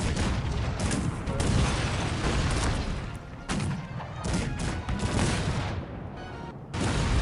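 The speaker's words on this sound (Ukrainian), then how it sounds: "Я тут поки стріляюсь пушечками" Dense, continuous cannon fire from a Cossacks 3 real-time strategy battle, with overlapping booms, crashes and impacts forming a loud, unbroken barrage over more than seven seconds.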